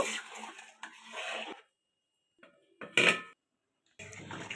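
A lid clatters onto a pot of vegetarian curry with yellow-pea lentil fritters and drumstick stems. Several soft metallic knocks come close, then one sharp clank and brief quiet scraping, all without talk.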